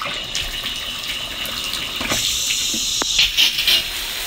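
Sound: shower running on off-grid gravity-fed water system

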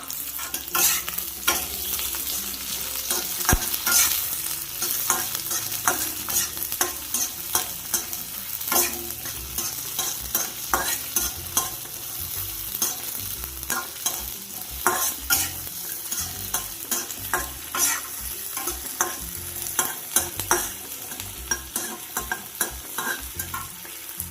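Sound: stir-frying onion in a pan for paneer chilli

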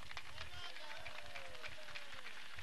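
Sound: applause from an outdoor crowd

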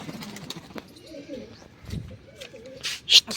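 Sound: pigeons cooing in coop

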